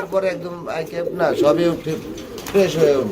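Pigeons for sale at a bird market coo in short repeated phrases, close and fairly loud, with people talking over them throughout.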